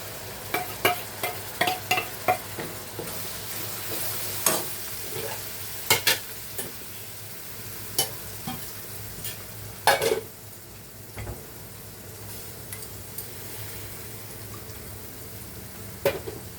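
Prawn masala with tomato puree sizzling in a pan as it is stirred, a steady frying hiss broken by frequent sharp clicks and scrapes of the spoon against the pan, close and continuous.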